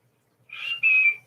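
A person whistles a two-part signal call: a short first note, a brief break, then a longer, steady, piercing high tone, close and alone.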